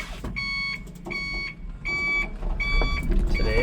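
A Miles electric truck put into reverse sounds a loud, even series of reversing beeps, about five tones with short gaps, over a low background rumble.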